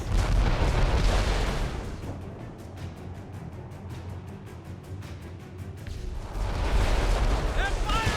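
Ship cannons boom in Assassin's Creed Rogue, heavy deep blasts rolling at the start and end of a naval skirmish with a lull between, mixed with shouted voices and game ambience.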